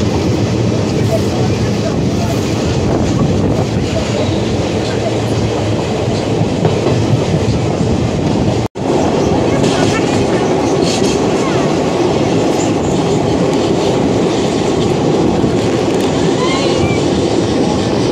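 A passenger train travelling from Cuttack toward Keonjhar rumbles loudly on its rails with a continuous clickety-clack, heard from inside the carriage with a brief dropout midway.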